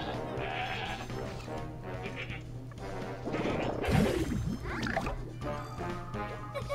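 A goat bleats in the card game Plants vs. Zombies Heroes, a short wavering cry near the middle over a steady game soundtrack with some impact effects.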